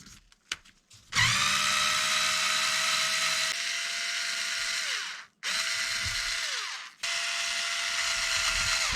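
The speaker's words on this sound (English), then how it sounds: "So 3mm hex driver, screw down here." A small electric driver with a 3mm hex bit spins out a screw on an RC car shock, giving a high steady whir in three bursts separated by short pauses, close and clear after a few faint clicks at the start.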